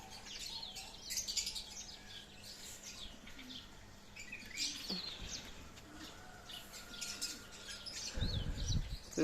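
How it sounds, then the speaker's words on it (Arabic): Canaries singing in a cage, bursts of bright chirping and trills that come and go over a quiet room, with a dull thump of handling noise near the end. "طيور حلوة، طيور مغردة الكناري"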